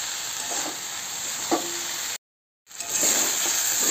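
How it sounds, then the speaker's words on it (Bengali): Salt-mashed water lily stems fry in a pan with a steady sizzle and a couple of light utensil knocks; the sound cuts out briefly, then the frying returns a little louder. "এটা খুলেই মানে ভাজা ভাজা করতে হবে, তাহলে জলটা তাড়াতাড়ি শুকিয়ে যাবে"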